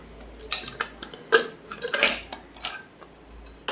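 A metal pot lid is lifted off boiled dal, giving a series of sharp clinks and clattering knocks of metal cookware, irregular and close, with no talking.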